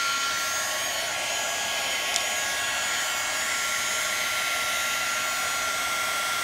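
A heat tool for melting embossing powder on a DIY craft project blows with a loud, steady, unbroken whoosh from start to finish, close by and with no voices.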